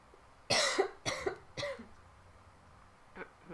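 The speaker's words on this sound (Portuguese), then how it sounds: "eu vou dar umas tossidinhas aqui" Three quick, close coughs in a row, followed by a fainter single cough after a short pause.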